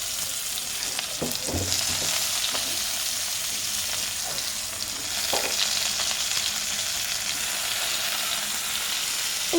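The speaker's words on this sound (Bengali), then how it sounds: "তারপর এখানে কুচনো পেঁয়াজটা আছে, আগে এটা একটু ভেজে নিই" Chopped onion frying in hot oil with dry red chili and bay leaf in a home Bengali kitchen, a steady loud sizzle throughout with occasional clinks and stirring scrapes.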